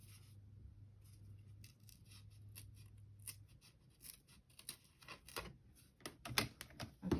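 A thin Little Golden Book cover is cut for a journal, with crisp snipping and crunching cuts that grow louder and more rapid toward the end, over a low hum that fades out partway.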